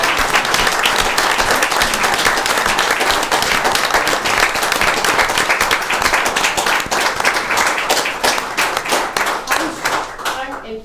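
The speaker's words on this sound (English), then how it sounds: "Please give this man a round of applause." An audience at a town Board of Commissioners meeting in Oxford, North Carolina, claps loudly and steadily for about ten seconds, a dense, close round of applause that thins slightly toward the end.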